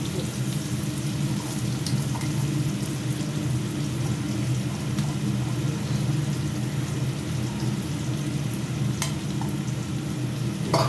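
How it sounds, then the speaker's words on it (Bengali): Gobindobhog rice and a little onion frying in oil in a pan, a steady, even sizzle that carries on without break at close range, with no talking. "চালটা দিয়ে একটু তেলের মধ্যে ভাজা ভাজা করে দেবো"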